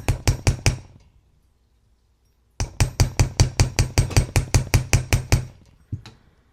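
A nylon, rawhide or rubber mallet taps a wire earring ring with sharp metallic taps in quick regular runs: four strikes, a pause, then a long steady series of about eighteen, and one last tap.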